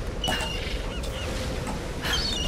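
A bird honks in the Tomb Raider video game, a few loud goose-like calls standing out over a steady bed of ambient game noise.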